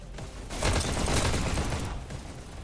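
Rapid gunfire in a competitive Payload League video game match, a dense burst of overlapping shots that swells after a brief quiet start, holds loud for over a second, then thins out.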